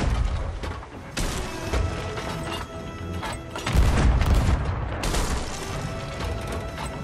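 Sea of Thieves naval battle with cannons firing at will, heard as repeated heavy booms and crashing impacts over about seven seconds, loud and close, with a particularly strong blast midway and no talk.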